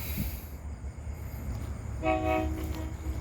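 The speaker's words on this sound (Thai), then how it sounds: "รถไฟมาเลยพี่น้อง" A train runs along a railway beside a canal in Samut Sakhon, its steady rumble rolling nearby before a short horn blast sounds in two pulses toward the end.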